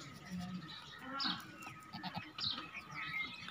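Goats bleat on a goat farm, several short nasal calls rising at intervals from nearby livestock amid faint background bird chirps, with quiet talking in places.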